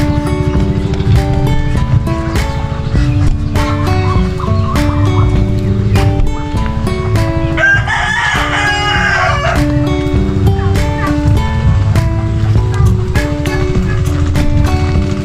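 Brooding hens on a small farm cluck and crow loudly alongside ducks, a continuous busy barnyard din with a short burst of harsher calls midway; a voice murmurs faintly underneath.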